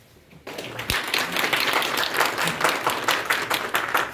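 A crowd of guests at a farewell party for a retiring education officer bursts into loud, sustained applause after a brief quiet start, the dense clapping holding steady to the end.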